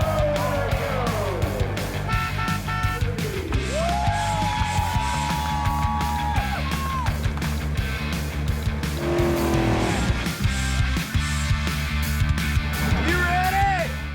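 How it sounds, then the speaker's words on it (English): Cars at a burnout competition roar with high revving engines and long wailing tire squeals, loud and sustained, with crowd noise in the background. "I've seen some burnout competitions in my day, but these cats take it to a whole new level."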